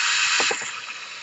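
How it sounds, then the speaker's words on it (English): A screwdriver unscrews screws from the underside of an Asus N53 laptop during a repair, giving a couple of quick close clicks and scrapes over a steady background hiss. "So now you just want to unscrew everything that you see here."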